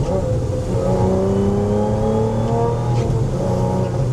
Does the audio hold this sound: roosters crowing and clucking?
no